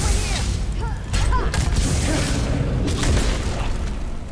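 Video game character's launcher firing in a loud barrage of booming blasts and whooshes, continuous and heavy throughout with no talk.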